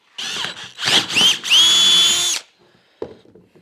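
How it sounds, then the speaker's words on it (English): A power drill whirs in several short bursts drilling a hole in a 1976 Mercruiser 120hp boat engine, then one longer sustained run that winds down, followed by a brief clunk. "Now you want to drill this hole perpendicular to the hole that's already there"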